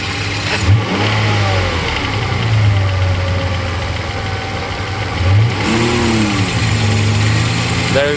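A Mercedes SL600 V12 engine revs up and down as the throttle linkage is worked by hand under the hood, loud and close, with rising and falling pitch sweeps over a steady engine drone.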